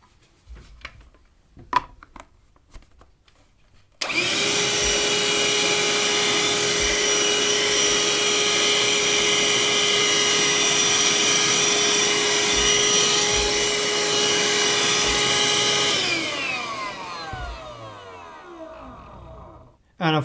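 Parkside 20V cordless vacuum cleaner with a nozzle attached switches on with a sharp start and runs as a loud, steady high-pitched whine for about twelve seconds before winding down, after a few faint clicks and breaths.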